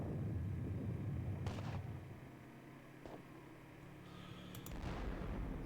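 Booming artillery gunfire in a Battle of Waterloo wargame, with a few distinct blasts rising over a steady low rumble of battle ambience.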